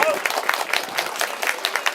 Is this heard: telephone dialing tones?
no